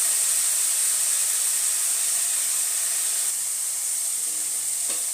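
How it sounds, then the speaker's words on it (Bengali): Onion, ginger and garlic paste frying in a pan for a Bengali prawn curry, giving a steady, loud, even sizzle with hiss that holds without pause from start to finish, with no voices. "আর এটাকে 2 মিনিটের মতো পেঁয়াজটা আর আদা রসুনটাকে একটু ভেজে নেব।"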